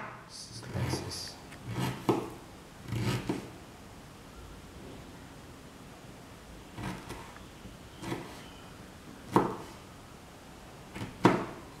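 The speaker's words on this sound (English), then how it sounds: "Now cut the ginger into slices." A knife slices ginger on a board while a mint cilantro chicken dry roast is prepared, giving about eight sharp, separate cutting knocks at irregular intervals, with quiet gaps between them.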